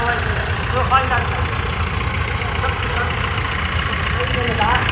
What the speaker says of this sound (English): Graham Dickinson on his tractor machine, whatever this thing is, I have no idea